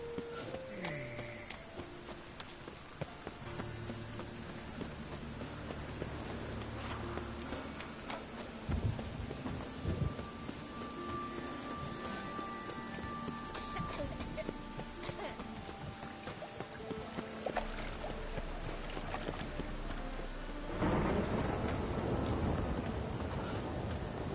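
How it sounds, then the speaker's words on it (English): A thunderstorm with rain rolls through in The Witcher 3, steady rain hiss filling the scene with low rumbling swells and a heavier surge near the end, while faint game sounds and a brief voice come through. "A storm, damn it."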